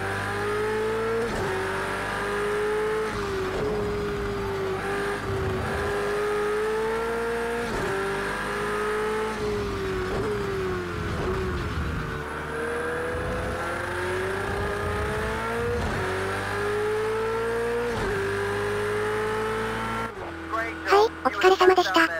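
A Nissan Skyline GT-R Group A race car in a racing video game drones loudly and steadily, its engine note rising and dipping with gear changes under braking, with tire noise near the end.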